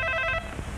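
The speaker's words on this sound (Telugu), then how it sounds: "కాసేపు మోగని తర్వాత తీస్తానులే." A telephone bell rings in a short rapid trill, close and fairly loud, then stops abruptly into room noise.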